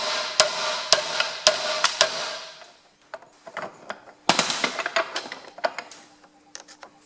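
Sharp metal knocks on a screwdriver driving the rear PTO seal out of a Ferguson FE35 seal housing held in a vise, a run of loud, evenly spaced blows, then a pause and a second quicker cluster of hits, close and with no voices.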